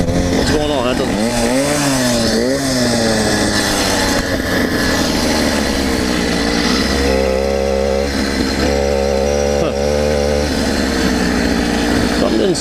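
A motorcycle engine runs with the choke partly up, its uneven, wavering note rising and falling close by, with a voice talking over it.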